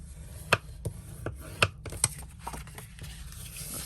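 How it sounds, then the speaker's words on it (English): Paper being folded and burnished for a pop open book card, a series of sharp creasing snaps and short rubbing strokes, close and irregular, with quieter scraping between them. "Folding and burnishing."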